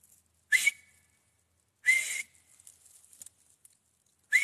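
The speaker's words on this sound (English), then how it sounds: "Whistle real loud." Loud, shrill whistles in short bursts: two sharp blasts a second apart, some faint scuffling, then another whistle at the end.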